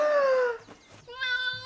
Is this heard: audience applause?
no